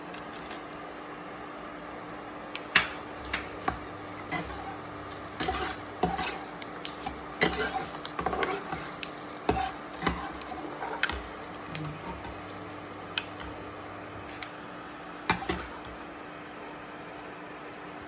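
Mace frying in hot oil while spices are prepared for Kolhapuri chutney makes a steady, quiet crackle. Scattered small pops and ticks run throughout, with no voices.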